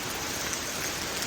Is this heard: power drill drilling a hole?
no